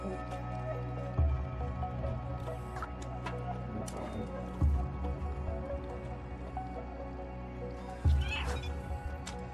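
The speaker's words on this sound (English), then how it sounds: "I meowed and made you drop a bucket." A cat meows in the video game Stray, a few short, faint calls spaced several seconds apart over a steady bed of game music and ambience.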